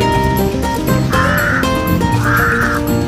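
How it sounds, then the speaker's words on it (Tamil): Crows cawing in a park in Thailand: two loud, harsh, drawn-out caws close by, the second following about a second after the first, over a busy outdoor background. "காக்கா பாருங்க கத்திக்கிட்டு கிடக்குது."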